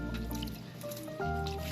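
Liquid poured onto the painted body of a Mitsubishi Adventure while removing paint overspray, with close dripping, trickling and squishy splashing sounds over steady background hum.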